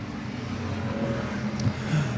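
Ford Bomber race cars roar around an Arizona Speedway oval during a heat race, a steady engine drone at moderate distance with a car's pitch swelling briefly as it passes.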